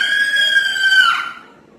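Woman's classic horror-movie scream, one long sustained high shriek that holds loud and steady, then bends down and breaks off near the end.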